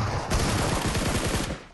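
Rapid gunfire crackles in the PUBG video game, a dense burst of shotgun blasts fired in quick succession, loud and close for about a second and a half before trailing off.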